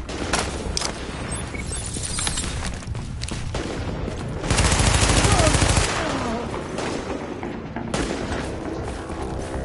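Rapid bursts of gunfire from a shooter video game, The Division, with repeated shots and a dense, louder volley midway, continuing steadily throughout.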